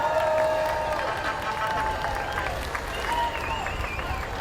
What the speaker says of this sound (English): So why am I not hearing cheers and claps for these firemen?